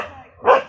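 A single dog bark, close and fairly loud, rising out of a quiet room with faint background noise before it; one short sharp burst with no speech.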